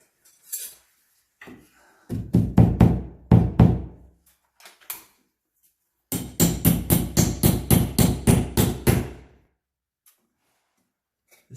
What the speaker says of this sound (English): what I'm going to do is actually tap that one that direction into the wall